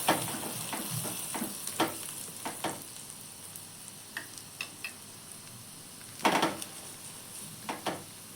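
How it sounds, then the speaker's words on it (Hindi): A stuffed vegetable paratha frying in ghee on a pan: a continuous crackling sizzle, punctuated by repeated sharp scraping and tapping strokes of a spatula, with a louder cluster partway through. "घी डालकर सेक लेंगे।"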